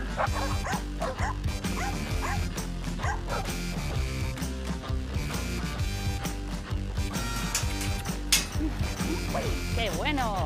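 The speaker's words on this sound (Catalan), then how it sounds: "aquí vos presento els gossos que tenim actualment en la protectora" Many dogs at an animal shelter barking and yipping at once, a dense, loud and continuous chorus of overlapping barks with some whimpering and clanking, no pause throughout.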